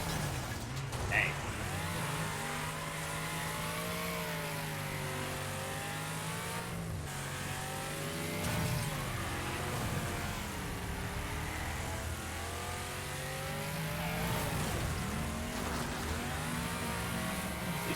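Race cars in a video game roar without pause, their engines revving and shifting pitch as they accelerate and slow, with occasional tire squeal in a dense, steady stream of motor noise.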